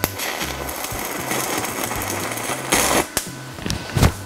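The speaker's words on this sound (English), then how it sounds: "That tungsten's just burning away, like there's no argon there." A TIG welder's arc sputtering and crackling as the tungsten burns away with no argon shielding, heard as an uneven buzzing hiss with sharp louder bursts near the end, no talking.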